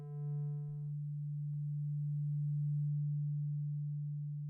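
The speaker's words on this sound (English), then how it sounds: "it would, by itself, sound a single pure frequency, or what we now recognize as a sine wave" A single pure, steady low tone hums continuously, smooth and unwavering, after a brief richer note at the start.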